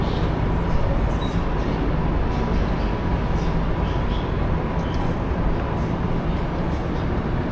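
Steady rumble of a subway train running at night in China, a continuous broadband roar with rattling and faint muffled voices underneath.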